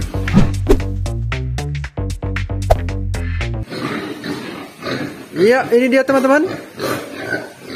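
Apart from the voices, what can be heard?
pigs in a battery pen on a Bali pig farm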